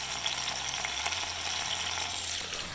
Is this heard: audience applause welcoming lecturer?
no